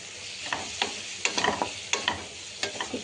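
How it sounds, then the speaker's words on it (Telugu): Ginger garlic paste fries in a pan for chicken samosa filling, stirred with a spoon that scrapes in sharp intermittent strokes over a soft steady sizzle, close and alone. "ఈ పచ్చివాసన పోయేంత వరకు కలుపుకోవాలి"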